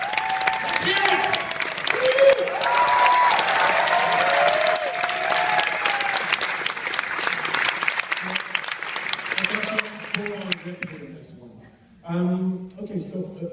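An audience at a Q&A screening for REC 4 breaks into loud, sustained applause and cheering for the director and guests, then it fades and a voice begins talking near the end.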